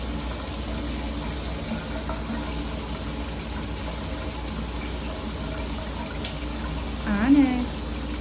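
Shower water runs steadily in a bathroom, a constant close hiss that continues throughout, with a cat giving a brief meow near the end.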